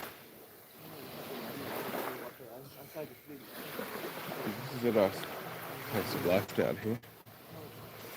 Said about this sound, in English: The loudest noise is the fucking waves.